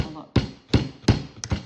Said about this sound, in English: this one's going to need a little hammering